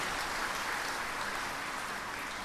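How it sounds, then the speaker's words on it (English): Audience applause at a university B.Tech orientation programme, a dense steady wash of clapping from a large crowd filling the whole stretch at even loudness. "Let's give a big round of applause to Mr."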